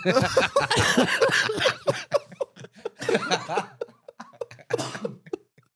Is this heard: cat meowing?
no